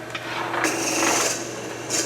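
A drill bores through soft wood on a lathe while turning a pepper mill, giving a steady scratchy grinding rasp that swells and eases slightly over a couple of seconds, close and moderately loud.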